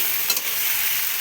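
Potato-pumpkin curry with bata fish sizzles steadily in a hot pan, with a brief scrape of a spoon stirring through it near the start.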